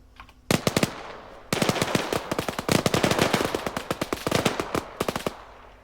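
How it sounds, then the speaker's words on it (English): Turret machine guns fire in the ARMA 3 video game during a beach assault, loud and close. Rapid bursts of shots come in quick clusters with a brief pause early on. "they've got the turrets will be shooting at them, you see, from the top of the artillery"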